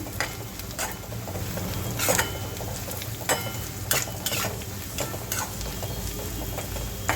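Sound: sautéing purslane leaves with turmeric and salt in a pan

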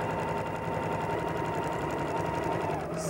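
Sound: sewing machine stitching quilt seam

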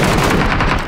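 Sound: gunfire in video game PlayerUnknown's Battlegrounds

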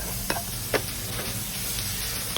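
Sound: sautéing onion and tomato in a pan

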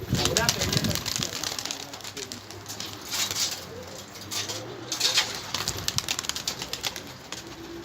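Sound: pigeon cooing

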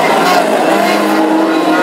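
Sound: hot rod race cars racing past on oval track

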